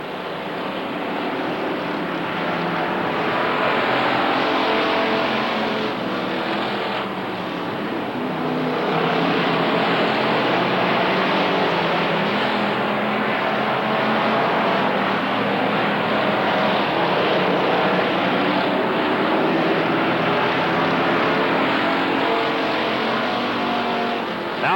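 Race cars roar around the oval at Rockford Speedway, a dense, continuous engine drone of the pack circling the track, loud and steady throughout without pause.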